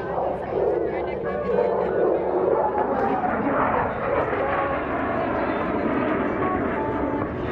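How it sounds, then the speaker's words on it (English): F-16 Fighting Falcon fighter jet flying a knife-edge pass at an Air National Guard airshow, a loud, continuous jet roar that sustains throughout with broadband noise and no distinct breaks, with an announcer talking over it. "And now, from the right is the F-16 and the knife edge pass."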